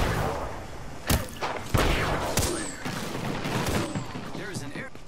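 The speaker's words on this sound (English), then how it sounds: "Whose airstrike is that?" Airstrike in the Apex Legends video game, a barrage of booming blasts and rapid explosions with several sharp impacts, loud and dense, while players talk over the action.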